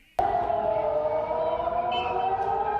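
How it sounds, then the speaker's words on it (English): A long air raid siren in Tel Aviv, warning of an incoming missile strike, starts abruptly and holds a steady, droning wail, loud and continuous over faint background noise. "As air raid sirens sound in Tel Aviv, warning of an incoming Iranian missile strike"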